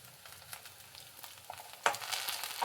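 Peanuts fry in a pan for a peanut chutney, a soft steady sizzle with light stirring scrapes that swells into a louder, brighter crackle near the end, with no voices.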